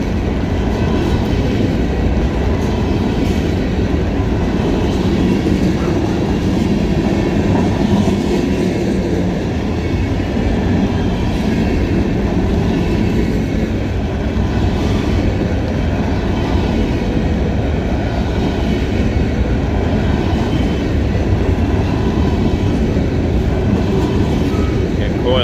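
A long CSX freight train of about 630 axles rolls past at Point of Rocks, Maryland, in a windy rainstorm: a steady, loud rumble with a continuous wash of rain and wind that never lets up.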